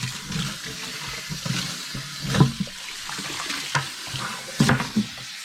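Water splashing and gurgling into a sink while rinsing hot soapy water from an airless spray gun, with intermittent sloshing surges as it drains and moves around, heard up close.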